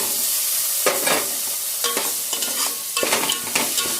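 Paneer cubes fry with tomato and spices in a hot pan, a continuous near sizzle broken by several sharp spatula stirs and scrapes, no speech.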